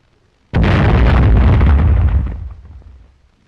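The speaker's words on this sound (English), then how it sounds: "Anti-tank mines are detonated by the charge." A demolition charge detonates anti-tank mines in a log roadblock, one sudden massive blast that roars on for about two seconds before rumbling away.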